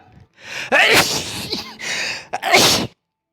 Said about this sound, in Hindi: छींक आ गया था